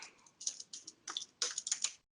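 Typing on a computer keyboard, several quick bursts of soft clicking keystrokes close by, quiet and without talk, ending in silence.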